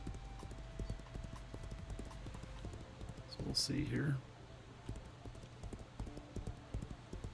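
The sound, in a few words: horse hoofbeats in the video game Legends of Aria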